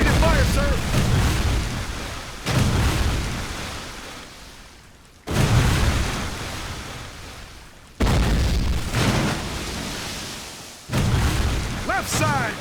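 Cannon fire in a Civil War naval battle video game, four heavy booming blasts at steady intervals, each decaying slowly under a rumbling battle ambience, with shouted voices faintly in between.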